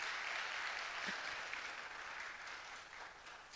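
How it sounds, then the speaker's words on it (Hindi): Audience applause at a medical education conference hall, a steady, even wash of many hands clapping, fairly faint and sustained, with no speech over it. "जरा तालियां जोर से बजाइएगा।"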